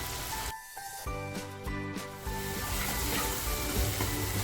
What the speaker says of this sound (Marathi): मी तेलामध्ये काश्मीरी मिरची पावडर टाकते